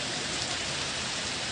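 Steady winter rain falls in a continuous, even hiss of drops with no breaks and no voices.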